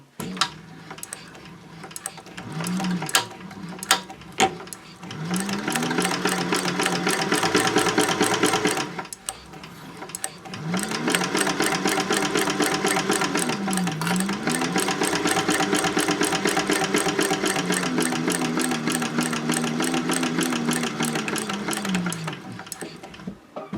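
A sewing machine runs a straight seam at a long 4.0 stitch length on lining pieces for a fabric caddy, sewing loud and close in two long bursts split by a brief pause, its motor speed rising and falling.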